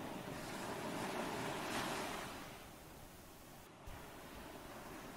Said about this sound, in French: Remarquez comme les vagues suivent le rythme de votre respiration.